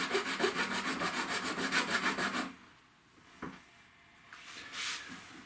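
A hand saw cuts the square ends off an Epiphone acoustic guitar headstock, a quick steady run of rasping back-and-forth strokes up close, stopping abruptly, followed by a few faint knocks and handling sounds.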